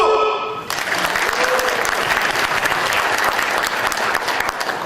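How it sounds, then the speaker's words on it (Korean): A large crowd claps steadily at a university architecture department's 40th anniversary event, a dense sustained applause filling the room from start to finish. "우리 김광석 전 학장님을 비롯한 여러 교수님들의 그동안 지도에 대해서 감사한 박수!"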